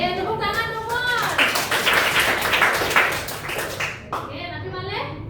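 Classroom audience of children clapping in a sustained burst of applause, dense and fairly loud, tapering off near the end as voices return.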